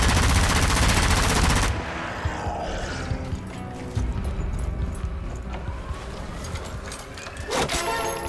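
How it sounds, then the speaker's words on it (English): Rapid automatic gunfire from a high fire-rate weapon in the zombie shooter Zombie Army 4, a loud dense burst that cuts off, followed by scattered shots, clatter and game ambience. "the fire rate is insane on this weapon"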